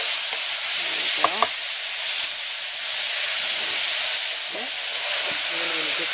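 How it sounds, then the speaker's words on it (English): Brussels sprouts sizzle in a pan with heated syrup, a loud, steady hissing fry that runs throughout with a couple of brief clinks. "you're going to heat that syrup up and just coat it."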